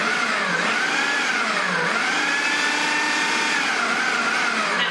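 Food processor finely chopping carrots, a steady loud motor whine whose pitch dips and rises in waves as the blades work through the pieces, running continuously without talk.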